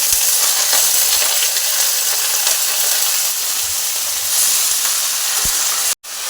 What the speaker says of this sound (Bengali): এবার আমি মিষ্টি কুমড়োর শাকটা দিয়ে দেবো।